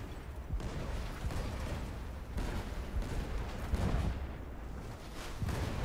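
Ship cannons fire in the video game Blazing Sails as a dense, rumbling barrage of booms and crackling blasts. The booms roll on one after another with no break.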